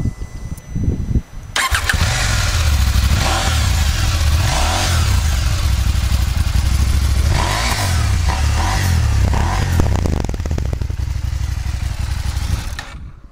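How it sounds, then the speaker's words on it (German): KTM 790 Adventure mid-size adventure motorcycle engine starting after a couple of clicks, then idling loud and close with several throttle blips revving up and settling, before cutting off at the end. "wie der Motor klingt, das wollen wir uns jetzt auch nochmal gemeinsam anhören"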